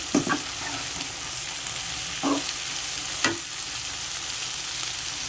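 Broad beans (chikkudu kaya) fry in a pan with a steady, even sizzle, broken by three brief clanks as they are stirred.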